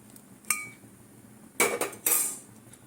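A spoon clinks and scrapes against a pan three times as milk is stirred for kesar sandesh, short metallic knocks spaced over a quiet background.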